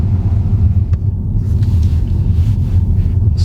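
A Genesis G80 with a 2.5 turbo petrol engine and automatic gearbox drives along, a steady low rumble of engine and road noise heard from inside the cabin.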